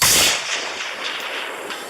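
A single sharp AK-47 rifle shot from a PSA AK GF3, loud and close, with a long rolling echo trailing off across open ground in still air.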